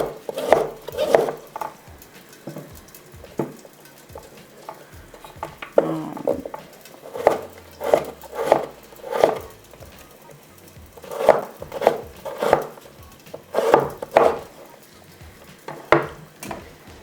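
Cabbage and carrot stir-fried in a pan, with a spatula scraping and clacking against the metal in repeated rhythmic strokes about every second, over a faint sizzle.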